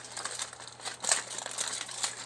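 Wrap is folded into a tent over food, giving close, continuous crinkling and crackling with a few louder crunches, alone without talk.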